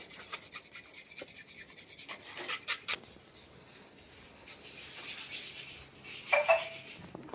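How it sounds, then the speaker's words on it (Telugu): Hand polishing of wooden furniture such as cupboards, doors and beds, heard as steady soft rubbing and rasping strokes that run continuously, moderately close, with a few louder scrapes and no talking. "మనోడు పాలిషింగ్ అనేది చేస్తారు"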